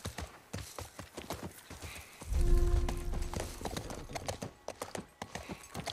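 Horse hooves clip-clop in The Last of Us Part I remake on PS5, a quick rhythmic series of close hoof strikes on hard ground with a brief louder rumble partway through.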